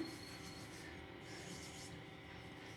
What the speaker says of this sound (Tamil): இன்னொரு தடவையும் நான் தேய்க்கிறேன்.